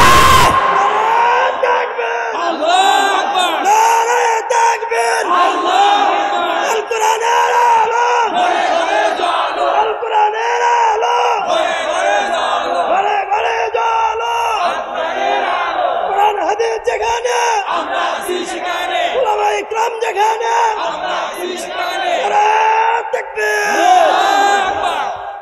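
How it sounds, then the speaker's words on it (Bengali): A large gathering answers a preacher's call with the takbir, many voices shouting Allahu Akbar together in a loud, sustained roar that swells and ebbs in waves for nearly half a minute. "তাকবীরের ধ্বনি দিয়ে জবাব তাকবীর দে।"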